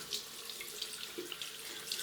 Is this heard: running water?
yes